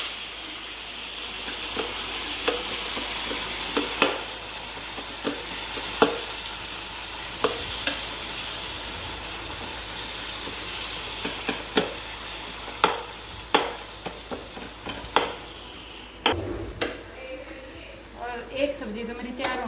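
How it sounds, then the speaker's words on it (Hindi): Tempering spices sizzle in hot oil on a home stove while vegetables cook, a steady quiet frying hiss broken by repeated sharp clinks and scrapes of a stirring utensil, with someone talking at times. "आगी ठीक हो गया, तो मैं लगाएगी तड़का।"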